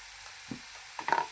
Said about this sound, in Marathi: टॅमॅटोचा चांगला गाळ होईपर्यंत फ्राय करायचा